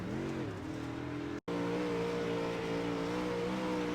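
Super late model race car engine in a racing video game, a steady droning roar with layered harmonics that dips briefly as the driver lifts off the throttle, then resumes at a constant pitch, loud and close.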